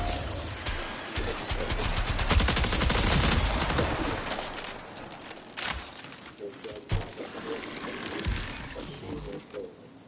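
Turret gunfire in a video game sounds as dense, rapid bursts of shots, loudest through the first four seconds, then thinning into scattered, quieter shots and impacts.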